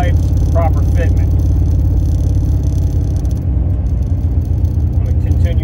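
A 1968 Camaro engine and exhaust rumble steadily while driving on the road, a loud, continuous low drone heard from inside the car, with someone talking over it.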